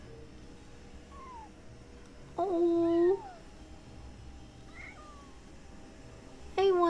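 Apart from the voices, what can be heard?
cat meowing in the video game Genshin Impact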